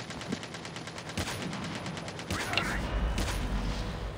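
Rapid automatic gunfire in the Call of Duty Mobile video game, a steady run of shots rattling through the clip with a louder burst midway and no talk over it.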